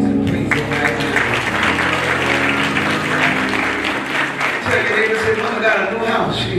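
Congregation clapping hands during a church homegoing service, a dense steady applause running throughout, with organ or music tones and voices mixed in underneath.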